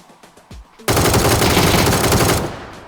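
Sustained automatic gunfire from PUBG, a battle royale video game, erupts loudly after a second of quieter clicks and lasts about a second and a half before easing off.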